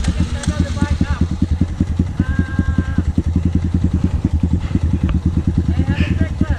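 A dirt bike engine on a trip in Bali, a steady fast low thumping putter running close and unbroken throughout, with brief voices over it.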